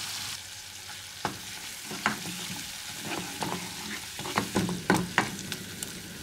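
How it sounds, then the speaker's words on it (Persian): Tomato paste fries in a pan with onions, turmeric, pepper and paprika, sizzling softly while a utensil scrapes and taps against the pan in irregular stirring strokes. "میذاریم قشنگ تفت بخوره که رنگش باز شه."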